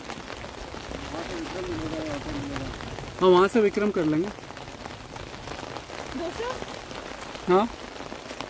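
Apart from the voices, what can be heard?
pouring rain in a jungle in Dehradun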